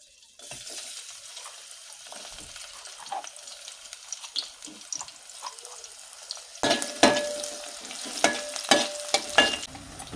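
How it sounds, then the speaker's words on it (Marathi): Garlic sizzles in hot oil with a soft, steady hiss that swells into louder, crackling spits toward the end, punctuated by occasional clinks and scrapes. "सो तेल तापलं आपला, त्याच्यात टाकूया आपण लसूण"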